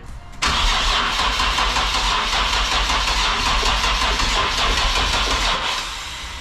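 A car fitted with a 700-horsepower turbo engine cranks and catches abruptly, then settles into a loud, steady, rumbling idle close by before easing off slightly at the end.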